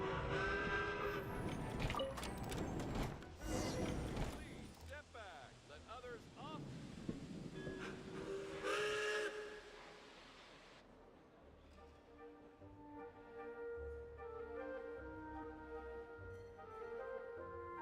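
Train sounds at a station in Genshin Impact: a loud, busy stretch of rumbling carriages and a bright whistle-like burst over the first ten seconds, then a calmer tail with steady tonal hum as the train settles, under light talk.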